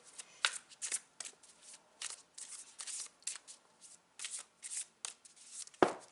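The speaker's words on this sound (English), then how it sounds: "Let me shuffle and stop at the picture that I feel is the right one for you." Tarot cards being shuffled in quick bursts of riffling and flicking, close and crisp, with short pauses between bursts and a firmer tap near the end.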